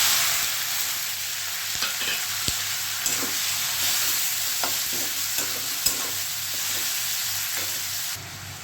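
Chopped ingredients sizzling in hot mustard oil tempered with cumin seeds for a soyabean curry: a dense, continuous hiss of frying with scattered light clicks and spatters, close and steady throughout.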